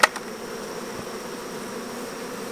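Honey bees hum in a steady, dense drone as a homemade hive is opened, close and continuous, with a brief knock at the start and no speech.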